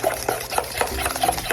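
Banana nut bread batter being stirred in a bowl makes a steady run of soft, wet scraping strokes repeating at a quick, even pace up close.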